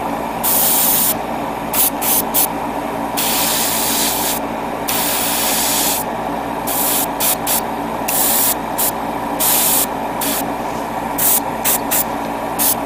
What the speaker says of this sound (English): I'm actually spraying air on it to dry it out a bit further